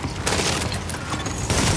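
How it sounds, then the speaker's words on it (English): Dense, sustained gunfire from a squad firing together in Tom Clancy's The Division, an unbroken wall of rapid overlapping shots, loud and close, with a heavier burst near the end and no talking. "Open fire!"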